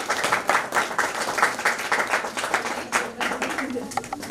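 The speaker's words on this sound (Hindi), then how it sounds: "तालियां तालियां देखते रहो" A crowd claps at a teacher's retirement ceremony, a steady rhythmic round of applause with a faint voice underneath.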